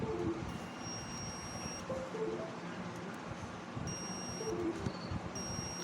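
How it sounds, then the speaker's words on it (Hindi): A multimeter set to its continuity beep range sounds a steady high electronic tone during VRM tracing on a Zebronics desktop motherboard. The beep comes in a few sustained bursts, faint against a constant background hum. "देखो, मैंने बीप रेंज पे सेट किया हुआ है, तो ये आवाज़ भी करेगा"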